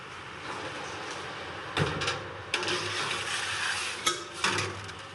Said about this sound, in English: So those go right into the oven